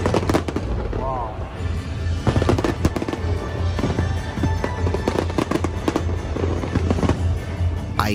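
Fireworks burst repeatedly over Singapore in a rapid, crackling barrage of booms and pops with a steady low rumble underneath, loud and sustained throughout, with a voice briefly audible among the explosions.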